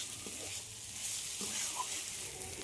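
Fried hilsa fish heads sizzle in a pan with a steady, moderately quiet crackle, broken by a few soft scrapes of a spoon as the heads are stirred and braised with the cooked masala.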